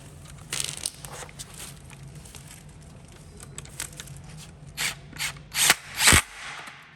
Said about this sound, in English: Now I'll tighten both of them before I move on to the top.